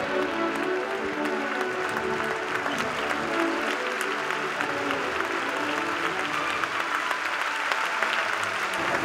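A concert audience gives a standing ovation after the Bamberg Symphony orchestra performs, sustained thick applause from a large hall crowd, continuous and even throughout, with faint crowd murmur underneath.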